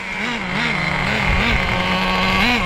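A Traxxas JATO 3.3 nitro RC car engine idles close by with a loud, continuous buzzing drone that wavers slightly in pitch and does not rev up.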